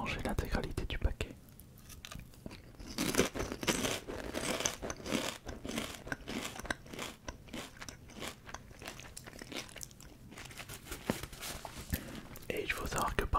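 Potato chips eaten one at a time from a bag, each bite a sharp close crunch followed by crisp chewing, repeating steadily with faint whispery rustles between bites.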